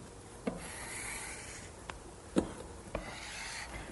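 Softened paint being scraped off white oak furniture during refinishing, a quiet continuous rasping rub broken by a few soft scraping strokes and light taps.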